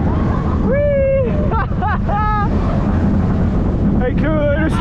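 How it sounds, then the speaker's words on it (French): Strong wind buffets the microphone outdoors at the Walibi amusement park in winter, a constant loud roar and rumble while people talk over it. "Oh, il y a beaucoup de vent."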